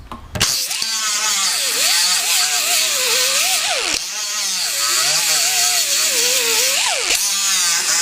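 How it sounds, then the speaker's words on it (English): Loud, continuous whine of a power sander with a 36 grit disc grinding down bad car paint, pitch wavering as pressure shifts, with a brief pause partway through. "Now take my 36 grit sanding disc, start flattening this pegs down."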